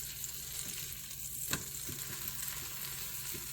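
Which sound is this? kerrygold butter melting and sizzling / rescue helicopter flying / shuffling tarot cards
kerrygold butter melting and sizzling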